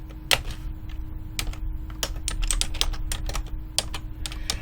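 Close, crisp keystrokes on a computer keyboard tap out a short line of text in an irregular rhythm, with no talking.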